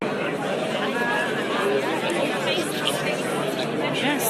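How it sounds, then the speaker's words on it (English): A large crowd at a memorial service in Israel, a dense wash of overlapping chatter and voices, steady and loud, with no single voice standing out. "Only in Israel is the crowd louder than the memorial service that they're at."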